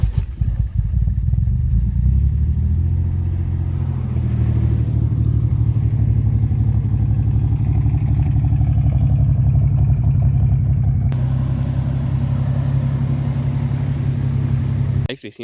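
A Nissan 300ZX twin turbo running on 93 gas cranks and fires up, then settles into a loud, steady, close idle with a low throbbing rumble that lasts for most of the stretch before cutting off abruptly at the end.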